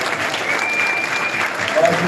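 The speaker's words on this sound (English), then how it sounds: "So give the brothers a round of applause again" An audience at a Hebrew Israelite summit in Atlanta applauds, a steady wash of clapping heard throughout at close range.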